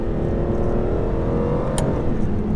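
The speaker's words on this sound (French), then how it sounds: "juste laisser le V12 vrombir à l'arrière" An Aston Martin DBS V12 with 517 horsepower revs slowly and continuously, a loud, smooth, close engine drone that climbs gradually in pitch, alone, with a brief click near the end.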